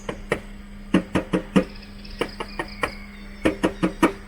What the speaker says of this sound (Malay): So kalau kita ketuk besi ni,